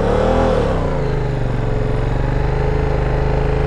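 Yamaha R7 motorcycle engine held in the clutch friction zone with very gentle throttle, a steady close low rumble with a slight rise in pitch early on, continuous and loud with no talking.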